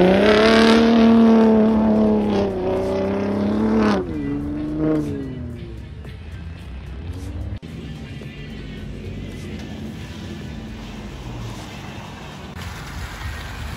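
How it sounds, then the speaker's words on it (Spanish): A Ford F-150 Raptor pickup's engine revs loudly at an outdoor event, climbing and falling through a few strong roars before settling into a steady rumble with crowd noise around it. "nos sorprendió con la aparición de la F-150 Raptor y suena espectacular"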